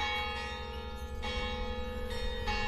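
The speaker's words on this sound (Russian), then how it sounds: "вот они и зазвонили колокола" Church bells ring near an old English cemetery. The resonant tones sustain and overlap, with fresh strikes about every second or so, and carry steadily over the whole stretch without speech.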